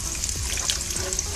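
Sauce with chili powder sizzles in a pan while being stirred, a steady bright frying hiss with a couple of soft scraping strokes of the spoon.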